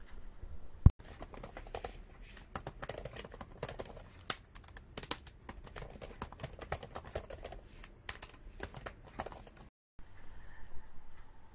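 Rapid typing on a Microsoft Surface Laptop 3 keyboard, dense clusters of light key clicks with a few sharper taps, pausing briefly near the end before resuming, with no talking.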